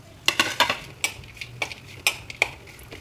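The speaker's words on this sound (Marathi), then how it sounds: "खोबरं चिरलेलं काप आहे ते छान परतून घेऊया लाल होईपर्यंत" Sliced coconut sautéing in oil in a pan gives a soft sizzle under sharp, uneven clinks and scrapes of a spoon stirring against the metal, close and clear.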